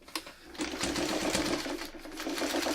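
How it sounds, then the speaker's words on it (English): A sewing machine stay stitches around the bottom of a miniature complex house quilt block, a close, steady mechanical hum after a short start. "I'm just going to stay stitch around the bottom"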